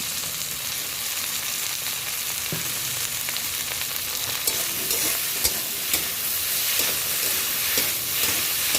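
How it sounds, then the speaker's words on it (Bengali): Okra sizzles steadily as it fries with onions in a pan for a mustard-style okra dish, a continuous close, even frying hiss with a few light stirring scrapes and no talking. "ঢ্যাঁড়সটা আমি পেঁয়াজের মধ্যে দিয়ে দিচ্ছি।"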